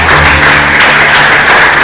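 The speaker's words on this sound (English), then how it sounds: "can we please give her a resounding round of applause?" Applause at a conference session on African kernel exports, a dense, very loud burst of clapping filling the whole stretch with a low hum underneath, no talking.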